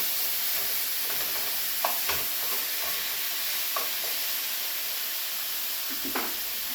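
Steady frying sizzle fills the background, with a few brief scraping clicks of a utensil stirring food in a pan.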